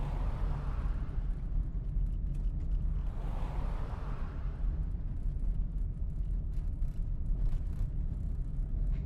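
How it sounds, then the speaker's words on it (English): Cars passing by on a road, rendered in a game; two broad whooshes sweep past one after another over a steady low rumble with some creaking, no talking. "cars passing by us when there's literally no car driving beside us"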